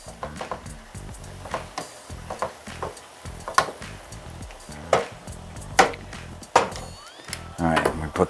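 Ground meat sizzling in a pan as clumps are broken up and spread with a utensil, irregular scraping and stirring knocks over a steady fry, with a voice talking at times.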